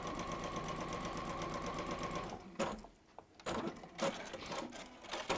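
Sewing machine stitching a shoulder seam, running in a steady fast whirring rhythm for a couple of seconds, then stopping with some handling clatter and brief restarts, close and moderately quiet.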